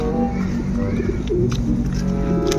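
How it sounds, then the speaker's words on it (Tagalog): Pigeons coo near their coop at a pigeon racing loft, soft rolling calls repeating close by over a steady background hum. "medyo dumami na naman yung mga kalapati ko rito"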